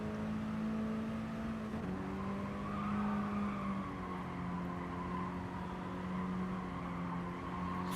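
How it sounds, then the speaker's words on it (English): A Mini Cooper race car in a Mini Cooper Cup circuit race has its wheels spinning up, giving a steady high engine whine with a sustained tire squeal layered over it, close and continuous. "Wheels spinning up, got through here."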